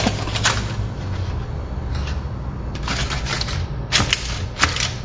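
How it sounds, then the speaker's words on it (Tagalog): Aluminum foil crinkling and rustling as it is pressed over a creamy pasta dish in a home kitchen, with several sharper crackles near the end. "tatakpan natin ng aluminum foil"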